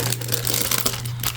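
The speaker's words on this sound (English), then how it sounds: "you still get the crinkling sound of the paper" Paper crinkling close up while planner items are unboxed, a dense run of rustling and crackling with no talking.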